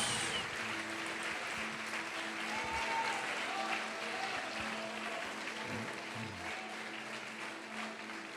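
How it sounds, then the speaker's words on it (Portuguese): Congregation applauding in church during a worship service, sustained many-handed clapping with faint murmuring voices underneath, moderately distant and even. "Pode aplaudir e glorificar a Deus."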